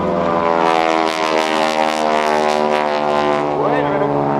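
Propeller aerobatic airplane flying at the 2014 NAS Oceana airshow, a loud, steady engine drone with shifting pitch that continues throughout, with a brief whistling sweep near the end.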